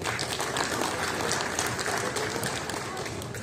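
An audience at a book fair gathering gives a warm round of applause, a dense wash of clapping that holds steady throughout, with voices faintly underneath.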